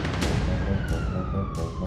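An ambulance siren wails as a falling electronic tone under loud, busy drama sound and music, continuous through the short stretch without spoken words.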